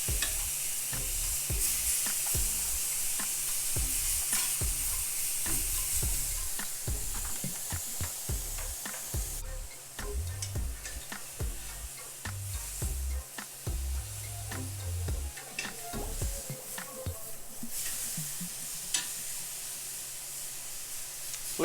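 Two pounds of sirloin steak searing in a hot pan, a steady loud sizzle and spatter throughout, with intermittent low thumps and scrapes as the meat is moved and flipped.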